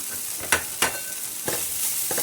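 Poha with peanuts, turmeric and asafoetida stirred in a hot pan: a soft continuous sizzle broken by several sharp scraping strokes of a spoon against the pan, close and clear, with no voices.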